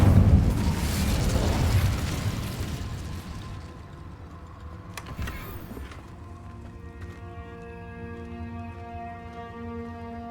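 An Incendio fire spell blast in Hogwarts Legacy bursts as a loud, roaring whoosh of flame that fades over several seconds, then a sharp crack and sustained ringing magical tones follow.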